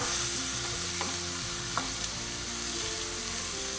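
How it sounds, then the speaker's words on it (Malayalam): Sliced onions sizzle steadily in hot oil with ginger, garlic and green chilli for an egg dum biryani, a constant close frying hiss broken by a few light spatula scrapes, with no talking. "ഇതിലേക്ക് ഞാൻ എടുത്തു വച്ചിരിക്കുന്ന സവാള ചേർത്ത് കൊടുക്കുകയാണ്."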